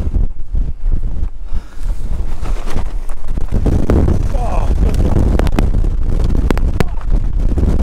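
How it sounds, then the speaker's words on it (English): Strong gusting wind roars and buffets the microphone continuously on the exposed summit of Green Gable, 801 metres, in the Lake District, with a man's brief exclamation buried under the blustery rumble. "And it is windy as hell."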